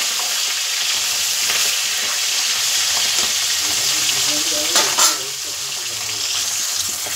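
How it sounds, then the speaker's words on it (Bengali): Two hilsa fish heads frying in hot oil and being turned, a loud continuous sizzle and crackle with a brief louder clatter of turning partway through, no voices. "মাছের মাথাটা একটু উল্টে পাল্টে ভালো করে লাল করে ভেজে নেব।"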